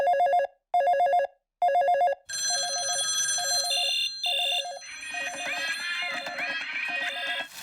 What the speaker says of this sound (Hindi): रुको, मैं ऑगी को फोन करती हूँ।